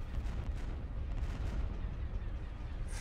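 Ships trade fire in the Star Wars Empire at War space battle, a dense, continuous rumble of booming blasts and bursts that stays loud and steady throughout with no pauses.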